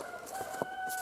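Chickens cluck softly nearby with a few short, sharp calls over a quiet outdoor background, one cluck slightly louder than the rest, with no voices.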